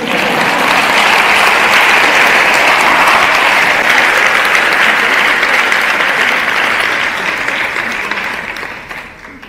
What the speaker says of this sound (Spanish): Ahora sí que me pueden aplaudir.